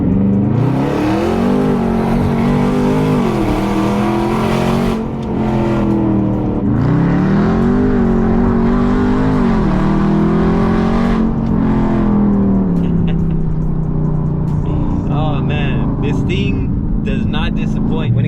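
A Dodge Charger Scat Pack Widebody in track mode gives a loud, steady engine roar that climbs and falls through its revs, with a voice talking over it.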